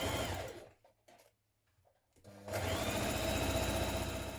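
A sewing machine whirs briefly, falls quiet for about a second, then runs again in a loud, continuous stretch while stitching a hem on a collared top.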